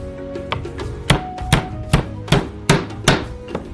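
Garlic cloves are crushed and chopped with a knife on a board during pizza preparation: about seven sharp, evenly spaced thwacks at close range, with no talking.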